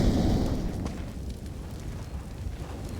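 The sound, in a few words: grenade explosion in the video game Counter-Strike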